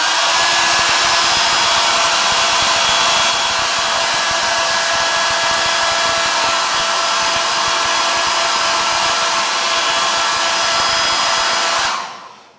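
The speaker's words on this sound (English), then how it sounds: "This hairdryer will melt the wax and the warmth of the wood will open the pores and let it sink in" A hairdryer blows continuously and loudly, melting beeswax polish onto carved wood. It holds a steady whooshing roar with a faint whine, then cuts off and winds down at the end.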